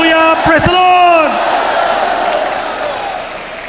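Church congregation at an evangelical preaching service shouting praise together, a loud burst of voices led by an amplified shout that fades into a lingering crowd roar.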